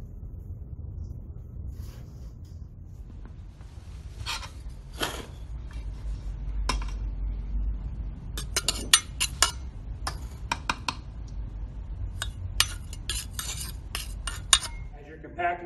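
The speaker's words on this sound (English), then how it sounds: "Apply 25 blows using my rammer." Steel Proctor rammer dropping a full 12 inches onto damp soil compacted in a mold, one of three equal lifts of 25 blows: sharp metallic knocks and clicks at an irregular pace over a steady low rumble.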